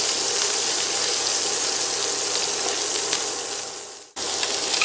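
Loud, steady sizzling of diced onion sautéing in a hot frying pan, a continuous crackling hiss that briefly drops out near the end before resuming.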